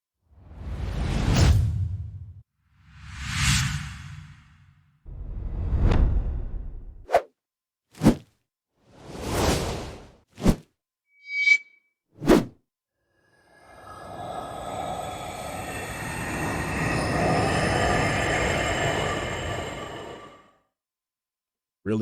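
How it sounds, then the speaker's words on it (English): Cinematic whoosh effects from a Splice sample pack: a series of separate swooshes, several long and swelling, then quick sharp swishes, ending in one long airy roaring sweep that cuts off, all loud and clean with no voices. "This is going to be the whooshes."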